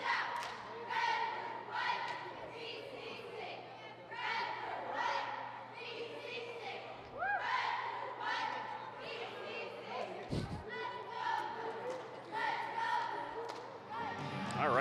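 Crowd at a men's college basketball game during a timeout, cheering and chattering in repeated surges while cheerleaders rally them, with a loud thump partway through and some talk mixed in.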